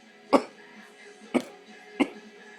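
Three separate coughs spaced about a second apart, each a short harsh burst, close and moderately loud against a quiet background.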